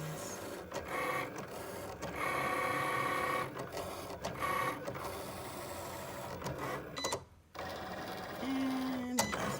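A Cricut cutting machine cuts out bath bomb packaging with a continuous mechanical whir, shifting motor tones and short carriage movements, close by with brief pauses and no talk.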